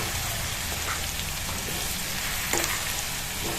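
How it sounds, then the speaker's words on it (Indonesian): Banana pieces fry in melted sugar and margarine with a dense, steady, rain-like sizzle, and a single faint clink of a utensil sounds near the end. "Dimasak-masak dulu sampai gulanya itu larut dengan margarin. Jangan lupa dibalik-balik juga pisangnya agar masak kedua sisinya."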